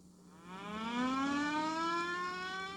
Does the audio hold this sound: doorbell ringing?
no